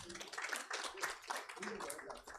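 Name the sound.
audience applause at a conference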